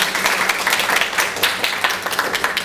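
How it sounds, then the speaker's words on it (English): Audience applause at a panel event on political power for women of color, lively clapping with distinct individual claps pulsing through a brief, fairly loud burst. "Give her a big round of applause."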